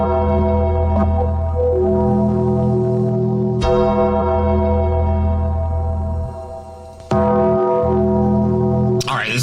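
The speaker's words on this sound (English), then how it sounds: "5 minutes of The Undertaker sound. Just the bell nonstop." A deep, resonant bell in the style of The Undertaker's wrestling entrance tolls slowly three times, each strike ringing out with long sustained harmonics over a steady low drone.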